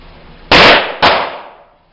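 Two sharp gunshots fired at new targets on an outdoor shooting range, the second about half a second after the first, each loud and close with a short fading tail, no talking.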